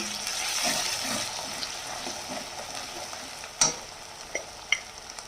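Ground coriander and cumin powder with chilli powder sautéing in a hot pan, a steady soft sizzle with stirring scrapes, and a few sharp clinks of the spoon against the pan near the end.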